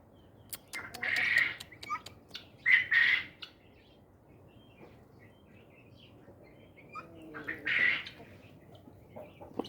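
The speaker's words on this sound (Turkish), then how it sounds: "Biri horoz, biri tavuk." A rooster and hen clucking and squawking in short bursts, with a few brief calls spaced out over a quiet outdoor background.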